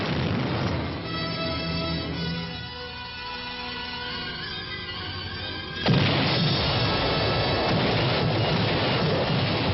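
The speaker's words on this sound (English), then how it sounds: "First, heavy preparatory fire to soften up the objective." A heavy wartime artillery bombardment, with a continuous rumbling roar of distant guns. A sudden louder burst hits partway through, and the barrage stays dense and booming after it.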